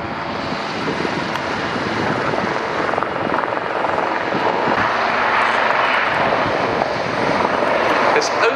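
Two Royal Navy Wildcat helicopters display at an air show, their steady rotor and engine drone filling the air at a distance while a commentator talks over it continuously.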